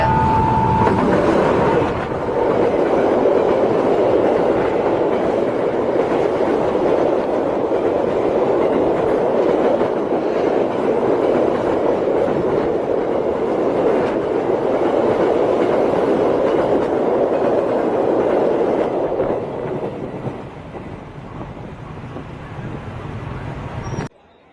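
A train passes through a railway market in Indonesia, rumbling loudly and close with steady rolling wheel noise and clatter for about twenty seconds before fading away, with voices faintly mixed in.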